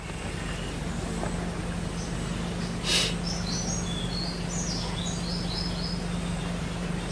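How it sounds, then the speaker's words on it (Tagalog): Several thin, high bird chirps scatter across the second half over a steady low hum and broadband background noise, fairly faint and distant. "Ang maririnig mo dito tay mga ibon."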